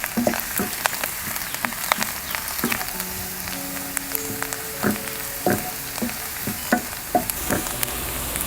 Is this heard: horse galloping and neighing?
no